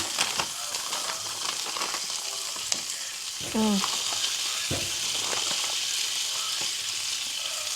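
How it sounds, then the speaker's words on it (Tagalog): Longganisa sausages in artificial casing fry in a pan, a steady crackling sizzle throughout with occasional pops and a brief clatter partway through. "Diyan na rin natin iprito yung langgunisa."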